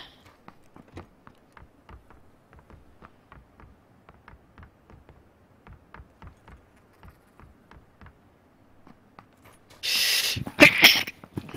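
A sneeze bursts out during a live-streamed game session, one sharp loud blast followed by a second short burst, after a long stretch of soft rhythmic clicks and footsteps.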